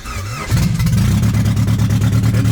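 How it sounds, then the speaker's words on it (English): A Honda Prelude engine cranks and catches, settling into a loud, rough, throbbing idle close by, with no talking over it. "the car should start right now"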